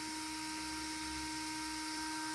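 An HMX 10 electric motor running on modified 1.9 firmware keeps pulling with no throttle applied, giving a steady, faint high whine with constant tones throughout, alone and without talk.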